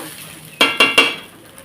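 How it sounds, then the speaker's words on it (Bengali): Chopped vegetables drop into a khichuri pot and get stirred, giving three quick sizzling scrapes close by, each fading into a soft crackle. "তো এখানে আমি এই যে কেটে রাখা সবজিটা দিয়ে দিচ্ছি"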